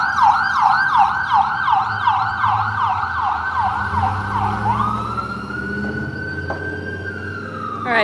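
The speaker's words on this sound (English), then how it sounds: "Oh, we've got a ambulance." An ambulance siren wails loudly in a rapid rising-and-falling yelp, then shifts to a long steady tone as it passes along a street at a protest, with low traffic rumble underneath.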